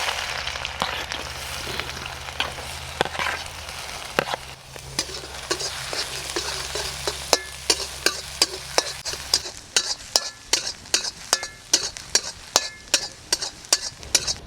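Finely sliced onion fries in oil in a pan over an outdoor village fire, a busy sizzle with a low rumble early on, then a run of sharp, regular clinks from a spoon stirring against the pan.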